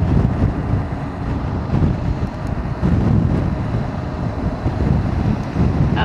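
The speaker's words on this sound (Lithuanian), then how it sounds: "Vėjukas atsiradęs nelabai malonus." Wind buffets an outdoor microphone on a cool day near water, a steady loud low rumble with gusty swells that persist throughout, with no talking.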